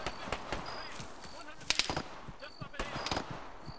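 Quick bursts of gunfire in the game ArmA 3, sharp cracks in clusters of rapid shots, moderately loud, with a brief voice among them.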